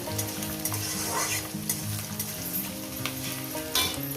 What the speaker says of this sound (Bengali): পেঁয়াজ কুচোটা দেওয়ার পর আমি এটাকে দু তিন মিনিট একটু ভেজে নেব